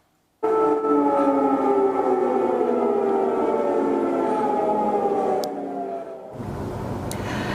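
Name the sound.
air raid sirens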